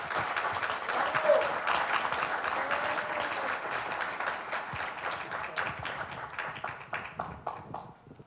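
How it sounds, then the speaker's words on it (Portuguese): Audience applause fills a hall at the 53rd CONIB convention: a warm burst of many hands clapping that thins into scattered claps and fades toward the end. "Queria realmente pedir uma calorosa salva de palmas para o meu amigo Sidney Kleiner."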